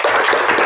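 Applause from an audience at a university teaching presentation in Indonesia, a short burst of dense, steady clapping with no talk.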